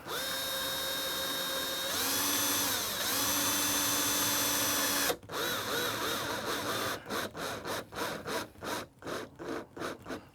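A power drill drives a 1/2-inch screw into an RV door, running steadily for about five seconds and then giving a string of short stuttering bursts, close and loud.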